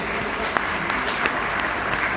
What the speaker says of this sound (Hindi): ताली तो बजाओ तब तरीके से जोरदार ताली बजाओ।